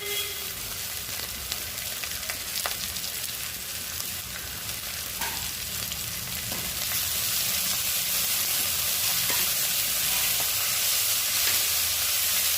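Ginger garlic paste frying with sliced onions in hot oil for a vegetable biryani, a steady close sizzle and hiss that grows louder and denser partway through, with occasional faint stirring clinks and no talk.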